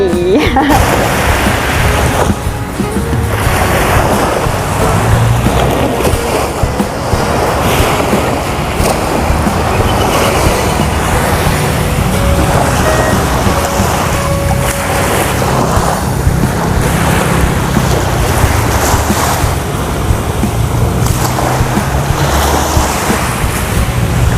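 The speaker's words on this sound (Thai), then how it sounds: "ตรงบริเวณ ริมทะเลบางแสนจ้า สวัสดีทะเลบางแสนชนบุรี" Surf washing steadily onto the shore at Bang Saen beach in Chonburi, a continuous broad roar with gusts of wind buffeting the microphone throughout.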